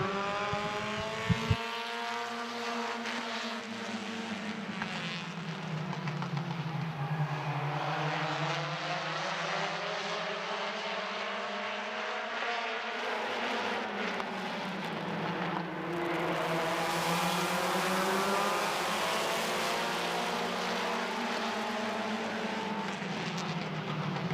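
Race cars lapping Midvale Speedway on the 2024 season championship night, a loud, continuous engine roar whose pitch climbs and falls in long sweeps as the cars accelerate and pass, with no talk over it.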